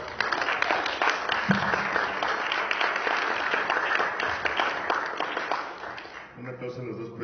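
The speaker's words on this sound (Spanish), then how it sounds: "Un aplauso a los dos proyectos" An audience applauds two projects presented at a conference: dense, sustained clapping fills most of the stretch before tapering off, with a voice briefly audible near the end.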